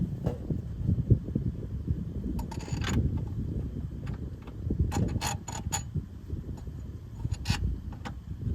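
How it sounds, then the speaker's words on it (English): A wing nut is hand-tightened on the air filter of a John Deere 4450 tractor, with scattered faint clicks and small creaks over a low, steady background rumble. "You're just tightening up a wing nut."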